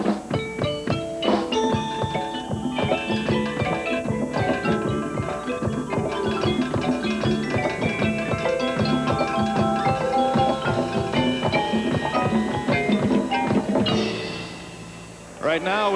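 A drum corps percussion ensemble plays marimba, xylophone, bells, cowbells, agogo bells and drums together, a dense, continuous, rhythmic passage of pitched mallet tones over steady drum hits that fades near the end.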